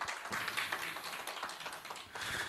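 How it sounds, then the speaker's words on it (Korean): A small lecture audience at a Korean statistics society conference claps to welcome a professor, soft scattered hand claps heard faintly and continuously for a couple of seconds. "큰 박수로 우리 최대우 교수님을 맞아주시기 바랍니다"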